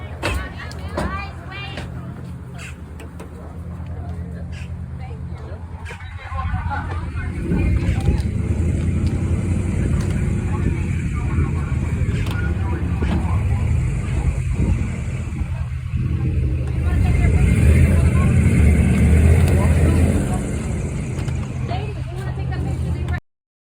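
Strong wind roars steadily over a droning boat engine on a fast boat ride in Miami, loud and continuous throughout, with a few voices faintly audible underneath.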